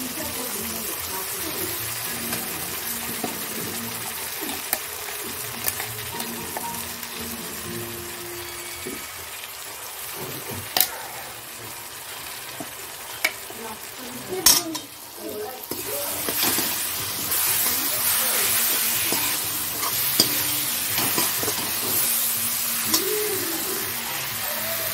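Tomatoes go into ginger-garlic paste frying in a pan and get stirred, giving a steady sizzle with scraping stirs and a few sharp clicks, growing louder and brighter in the second half.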